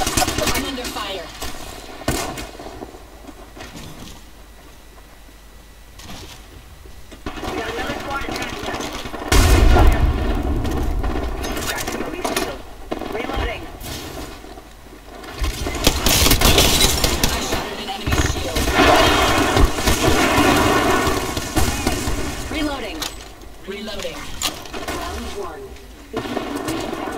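Gunfire in Apex Legends, with repeated bursts of rapid shots and heavier booms over continuous game noise, loud and close at times. Game voices are heard over the shooting.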